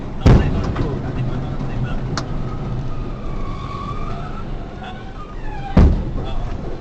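An overloaded truck on the road lets out a sudden loud bang over steady traffic rumble, and a second heavy thump follows a few seconds later.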